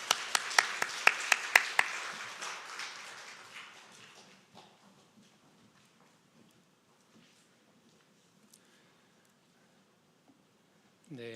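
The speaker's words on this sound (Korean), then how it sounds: "다시 한번 두 분 박수로 환영합니다." A church congregation at a Sunday worship service claps to welcome two people, a few loud sharp claps at first that thin into scattered softer clapping and fade to near silence, with a brief sound near the end.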